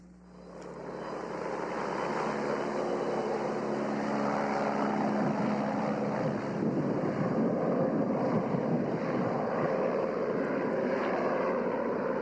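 A small propeller plane carrying mail, food and supplies to Diomede village on Little Diomede island drones steadily, its engine rising in the first seconds and then holding a loud, even roar mixed with wind noise.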